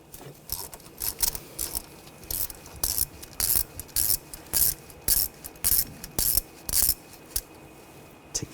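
A ratchet with a 5mm hex socket loosening a bolt on a 2000-2006 BMW X5 during front wheel speed sensor work, giving quick rhythmic clicking bursts in steady strokes, close and crisp.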